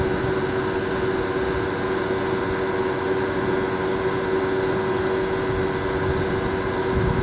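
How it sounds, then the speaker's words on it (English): A Nesco Professional coffee roaster runs with hot air blowing while its center auger spins Ethiopia Sidamo beans. It makes a steady, unbroken motor hum and fan whir with a constant tone, close and even, with no talking. "how this coffee roaster is functioning here, you have the center auger, as you can see, that's spinning the beans"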